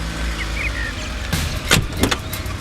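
Someone climbs into a car, with a sharp door thump and rustling clatter over a steady idling engine, a few distinct knocks standing out near the end.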